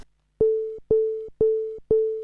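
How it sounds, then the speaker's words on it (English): Telephone ringing tones synthesized by an Arduino from sine waves: four loud, evenly spaced pure beeps, each about a third of a second long with short gaps between, clean and alone. "these ringing tones."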